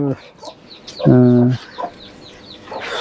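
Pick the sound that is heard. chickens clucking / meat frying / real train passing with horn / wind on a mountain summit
chickens clucking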